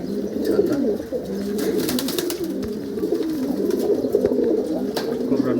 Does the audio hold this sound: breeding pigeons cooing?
yes